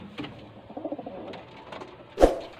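Pigeons in a racing loft give soft, low coos in short bursts, faint and close, followed by a sudden sharp knock or flutter near the end.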